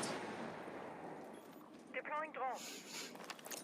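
Grenades thrown in a Rainbow Six Siege grand finals match go off as a loud explosion with a long decaying rumble, then scattered crackles and thuds follow while an excited voice speaks over the action.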